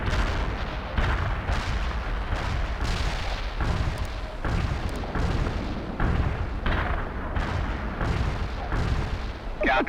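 Sustained artillery barrage in the World in Conflict strategy game, a dense run of repeated booming blasts and rumbling impacts roughly every half-second to second, loud and continuous throughout with no talk.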